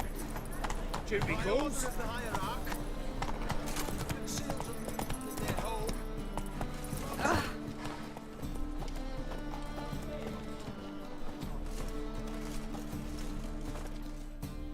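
Horse hooves clip-clop at a steady galloping rhythm in The Witcher 3, close and continuous throughout, with a voice speaking briefly over the hoofbeats.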